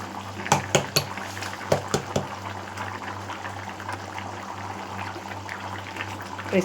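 Fresh cream is stirred into a boiling mushroom gravy in a pan, with several sharp spoon clinks and scrapes against the pan early on over a steady bubbling simmer, close by and without speech.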